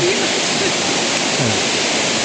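A steady roar of rushing water from a roadside waterfall on the southern Lumajang–Banyuwangi route in Java, Indonesia, loud and continuous, filling the whole clip.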